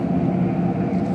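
A Peterbilt sandstone truck drives past in a Michigan winter snowstorm, heard as a loud, steady low engine rumble that fills the whole moment.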